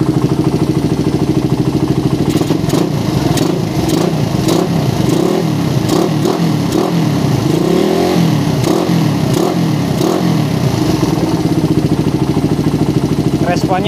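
A motorcycle engine fitted with a PE carburetor runs close by, a steady idle rising into a series of quick revs and falling back, with a voice talking over it.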